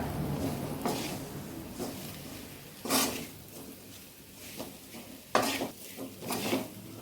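Fried raw banana slices are tossed with masala in a metal pan, giving a few distinct scraping and clattering stir strokes over a faint sizzle.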